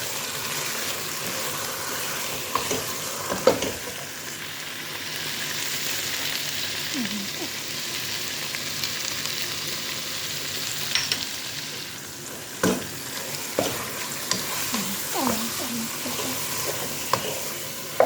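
Garlic and ginger frying in a pan while being stirred for a chicken rice dish, a steady broadband sizzle with occasional scraping stirs, close and continuous, with no voices.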